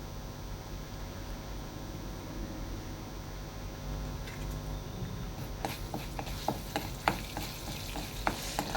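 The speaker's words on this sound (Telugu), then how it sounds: "మినపప్పు, శనగపప్పు, జీలకర్ర, ఆవాలు, ఎండుమిరపకాయలు, కరివేపాకు ఇవి బాగా వేయించాలండి" Urad dal, chana dal, cumin, mustard seeds, dried red chillies and curry leaves fry in a pan as a low, continuous sizzle, joined midway by a spoon stirring with light scraping clicks, quiet and close.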